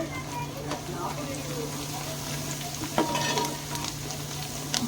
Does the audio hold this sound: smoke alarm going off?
no